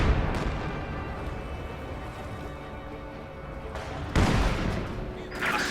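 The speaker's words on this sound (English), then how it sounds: "And the snipers just continue killing away." Rifle shots ring out in a Company of Heroes 2 match, sharp bursts amid a dense battlefield din of rumbling artillery and gunfire, with a louder cluster of impacts near the end.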